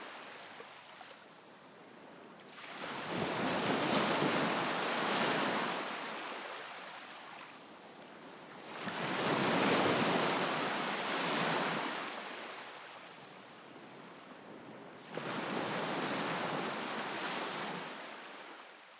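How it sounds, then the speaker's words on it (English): Ocean waves surge and recede in three long, slow swells, each rushing loudly before fading back to a softer wash. "I can hear the rise and fall of the tide"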